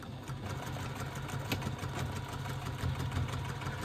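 An electric sewing machine stitches a fabric seam with the seam allowance opened and matched, giving a steady, continuous mechanical hum at close range with no speech.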